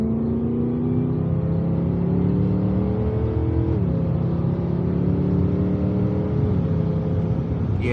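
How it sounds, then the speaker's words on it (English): BMW E92 M3 with its V8 pulling away through the seven-speed DCT around 3,500 rpm, a loud close engine drone that climbs in pitch, drops briefly at a gear change, then rises again. "Yeah, you just can't beat the V8 soundtrack."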